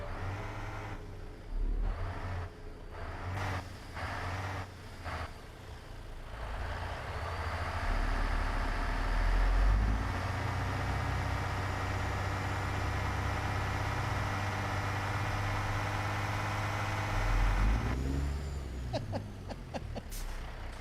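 A video game truck engine idles, then revs up into a loud sustained drone before easing off, with a hiss like an air brake near the end.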